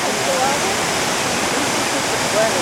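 A waterfall at Gooseberry State Park, Michigan, running low during a dry spell, gives a steady, dense broadband rush that fills the whole clip without a break, loud and close.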